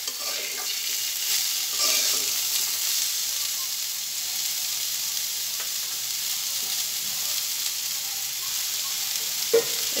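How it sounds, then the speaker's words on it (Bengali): Bitter gourd and boiled potatoes fry in a pan, a continuous bright sizzle with a faint clink or two of stirring near the end, close up and free of speech. "এখন আমি করলাগুলো দিয়ে দিব। করলাগুলো দিয়ে একটু হালকা নেড়ে চেড়ে নিব।"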